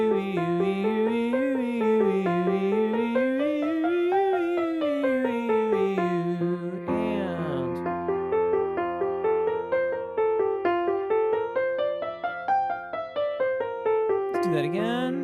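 Soprano and mezzo-soprano warm-up in F major on the vowels E and U, a single voice sliding up and down in smooth arpeggio-like patterns, with a piano accompaniment stepping through the exercise.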